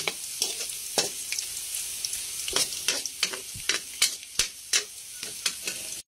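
Water spinach (kangkong) sautéing in a pan for ginisang kangkong: a steady broadband sizzle with repeated sharp clatters of a utensil stirring and tossing the greens, close and fairly loud, no talking.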